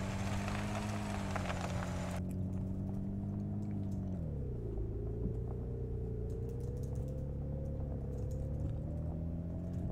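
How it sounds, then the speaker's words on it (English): A car in the video game Unturned II drives over coarse ground, giving a steady low rumble under a continuous engine drone. The pitch dips partway through and then holds, with no talking. "rumble of the tires on the ground."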